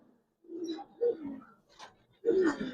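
Pigeons in a Giribaz and colored pigeon loft coo in several low, throaty bursts, close and moderately loud, separated by brief pauses.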